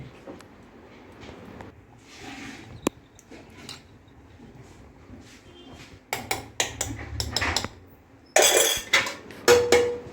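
A spoon mixing asafoetida and fenugreek powders into a fish curry mixture, with a rapid run of metallic clinks and scrapes in the pot, loud and close, after a quieter start.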